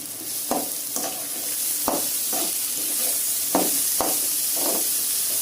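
Grated carrot sautés in oil in a pan, a steady hiss of frying punctuated by regular scraping strokes of a spatula every half second or so, close up and without voices.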